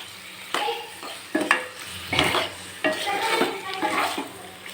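Chicken pieces for Rayalaseema-style gongura chicken are stirred gently in a pan, with a run of scraping, clattering spoon strokes against the metal over a soft sizzle, close and moderately loud.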